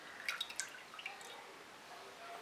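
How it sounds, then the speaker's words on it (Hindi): Milk and oil poured into a bowl for pizza dough, faint close splashes and drips, a few brief trickles in the first second and then quiet liquid settling. "अब पिज़्ज़े की बेस बनाने के लिए मैं एक बोल में डालूंगी 1 कप दूध, 2 से 3 टेबलस्पून ऑयल"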